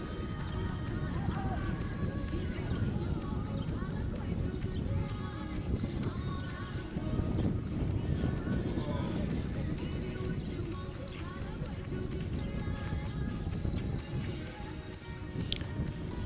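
A loose horse gallops around a show jumping arena after a rider's fall at a European Cup U19 women's final, with steady hoofbeats under continuous commentary and crowd noise.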